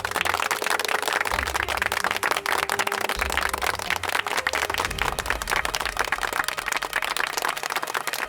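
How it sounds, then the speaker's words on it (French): Applause from a family gathering in a dramatic household scene, dense steady clapping running the full length with a low musical bed underneath. "Applaudissements!"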